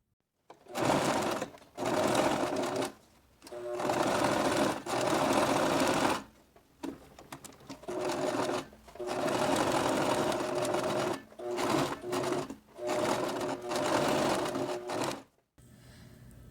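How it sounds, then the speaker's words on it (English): Sewing machine stitching bias binding onto an apron seam near the edge, running in close, steady bursts of rapid mechanical chatter separated by short pauses, with no voices. "you're going to take it to the machine and sew along the seam that is closest to the edge"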